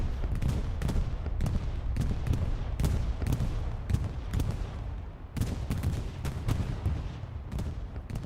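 Repeated booming blasts from a bombing run in the Hell Let Loose game, Carentan map, rolling in dense succession with sharp cracks and gunfire layered over a continuous heavy rumble, loud and close throughout.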